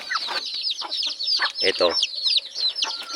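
A wild jungle fowl, set down on the ground, gives a close, steady run of clucks and short squawky calls that fill the whole moment without pause.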